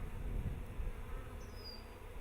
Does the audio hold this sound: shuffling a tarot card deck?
no